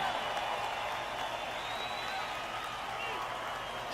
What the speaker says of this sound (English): we don't need to hear people clapping for the win